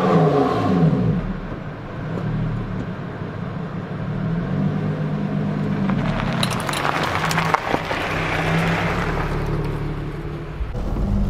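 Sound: Lotus sports car driving off

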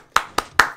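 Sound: hand clapping

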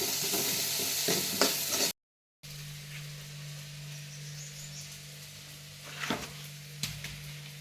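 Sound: masala with tomato frying and being stirred in pan

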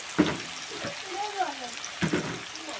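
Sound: chopped onion added to hot spiced oil, sizzling

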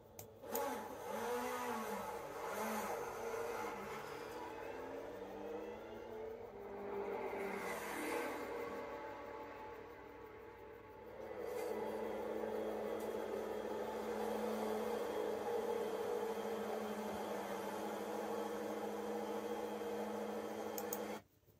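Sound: Porsche LMDH Le Mans endurance race car on track

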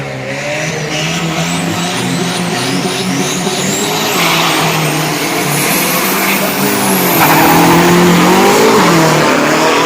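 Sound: drag racing pickup truck engine revving at the start line

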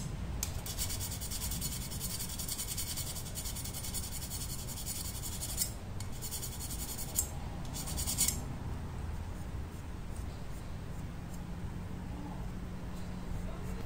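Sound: filing the snapped tip of a Japanese Santoku knife

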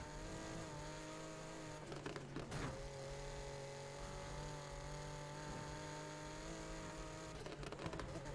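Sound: car engine driving in Need for Speed Heat video game

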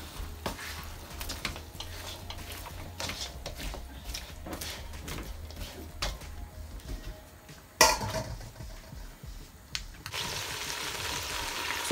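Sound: stirring lamb neck stew in a pot

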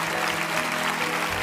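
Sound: church congregation applause

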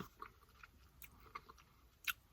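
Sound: biting and eating akebi fruit

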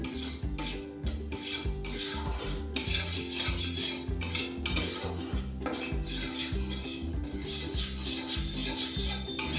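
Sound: cashews being roasted and stirred in a pan

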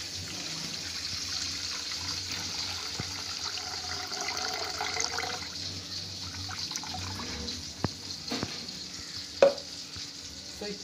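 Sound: pouring and filtering water for tomato soup

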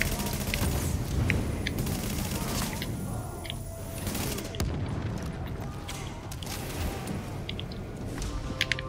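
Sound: grenade explosion and gunfire in video game The Division

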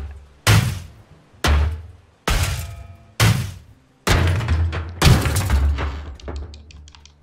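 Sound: hammer striking ship hull in video game Ship Graveyard Simulator

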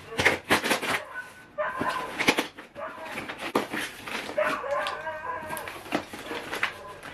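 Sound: dog barking

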